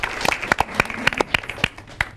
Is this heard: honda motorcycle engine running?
no